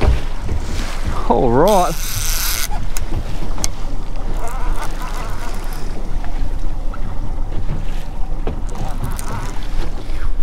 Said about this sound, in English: That wind is starting to puff up as well.